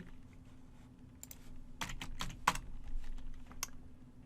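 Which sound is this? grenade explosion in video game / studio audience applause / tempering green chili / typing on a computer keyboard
typing on a computer keyboard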